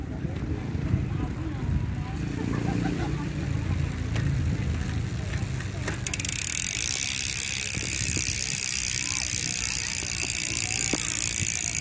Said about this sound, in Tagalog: Ayan po yung tunog ng hubs guys.